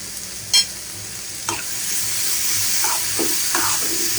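Chopped vegetables frying in a pan give a steady close sizzle, opened by a sharp clink and broken by a few soft scraping stirs toward the end.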